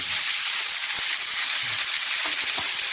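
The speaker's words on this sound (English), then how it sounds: "Now we are going to have a nice sear on this." A steak sears in a hot pan, giving a loud, continuous, close hiss and sizzle that stays even from start to finish, with no voices.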